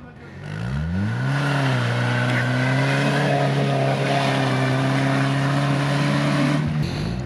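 Renault Duster rally car in the TR-2 off-road class at the Daria-Trophy 2020 event, driving through a deep rut, its engine holding a steady loud drone after rising revs, continuous and close for several seconds.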